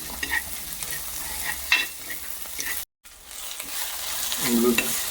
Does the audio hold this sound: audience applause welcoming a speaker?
no